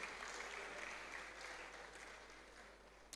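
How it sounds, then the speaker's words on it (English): Audience applause at a university zoology department's valedictory programme, steady sustained clapping from a crowd filling the hall throughout. "Please, a round of applause for him."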